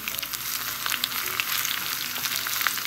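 Small onions fry in hot oil as a tempering for Kerala fish curry. A close, steady crackling sizzle carries bright pops throughout.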